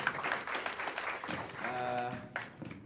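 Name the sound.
applause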